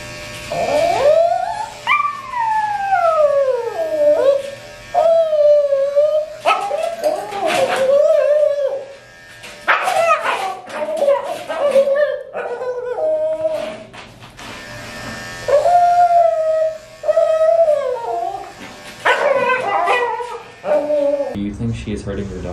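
A dog howls and whimpers in complaint at close range, long rising and falling whines repeated over about twenty seconds, with an electric buzz underneath and people talking around it.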